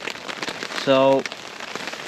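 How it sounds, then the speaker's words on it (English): Rain pattering steadily on a tarp stretched over an outdoor maple syrup boil, the snow having turned to rain; a close, continuous hiss runs throughout, with a brief tonal sound in the middle and one short spoken word. "We're nearing the end, and the snow has turned to rain."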